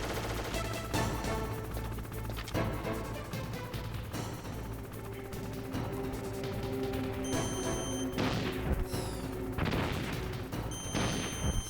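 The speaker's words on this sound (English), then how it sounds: "Oh, you're shooting, you're shooting." Steady gunfire and explosive crashes from the Metal Gear Solid video game, dense and continuous over layered game music and effects, with bursts of shots repeating throughout.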